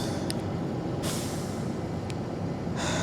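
Big truck air brakes hiss in broadband bursts, one sharp release near the start and another building toward the end, over steady engine rumble inside the cab.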